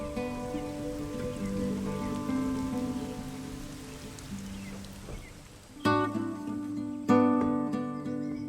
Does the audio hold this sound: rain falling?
yes